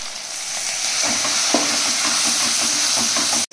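Oil heated in a pan for frying fish gives a loud, continuous sizzle with a stirring scrape partway through, and the sound cuts off abruptly near the end.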